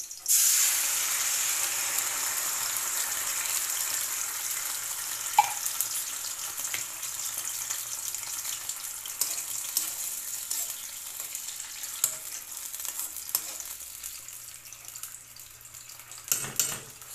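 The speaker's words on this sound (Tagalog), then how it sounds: "Lagay ko na ang mega sardines." Canned mega sardines sautéing in a pan, a steady close sizzle and frying hiss running throughout with faint clinks near the end.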